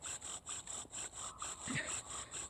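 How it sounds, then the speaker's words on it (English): A bow drill spindle rubs against a wooden fireboard in quick, regular back-and-forth strokes, a close, rhythmic scraping friction sound at a moderate level. "there needs to be enough friction between the spindle and the fireboard"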